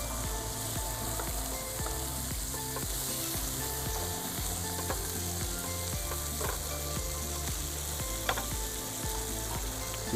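Sardines fry until crisp in a pan, giving off a dense, steady sizzle. Regular low knocking and scraping runs underneath from start to finish, close and even in level.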